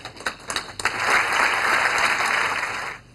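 Audience at a university graduation ceremony breaks into a short burst of applause, scattered claps building quickly into steady clapping before stopping after about three seconds.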